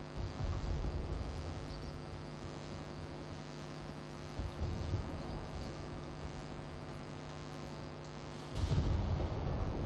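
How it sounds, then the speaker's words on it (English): Explosions and heavy rumble in the Vietnam expansion of the video game Battlefield Bad Company 2, a dense continuous low roar with a louder burst near the end, no talk. "Yeah, explosions."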